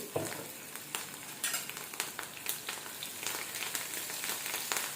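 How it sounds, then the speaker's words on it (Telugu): Mustard seeds, cumin, dried chillies, curry leaves and green chillies fry in oil over a low flame for a tempering. A close, steady sizzle carries irregular crackles and small pops throughout, with no voices. "ఇందులోని ఆవాలు, జీలకర్ర, ఎండుమిర్చి, కరివేపాకు, పచ్చిమిర్చి అన్నిటినీ వేసి వేయించుకోవాలి"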